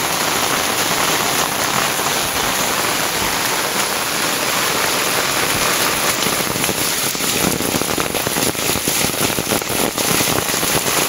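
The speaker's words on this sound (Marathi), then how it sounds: "पाऊस जास्त झाला" Heavy rain pours in a dense, loud, unbroken roar across a village house yard in the Konkan, with scattered louder drops spattering on surfaces nearby.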